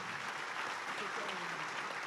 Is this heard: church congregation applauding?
yes